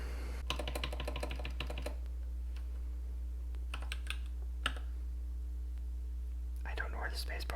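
Rapid clacking keystrokes on an ErgoDox 76 mechanical keyboard come in bursts and scattered taps, close up, with soft whispering in places over a steady hum.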